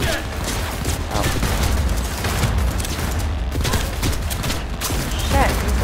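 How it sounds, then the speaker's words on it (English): Dense gunfire from the video game Cyberpunk 2077 during a heist, a loud continuous fusillade of shots with booming impacts that runs through the whole stretch, with voices talking over it at times. "Shoot him in the face, Jackie."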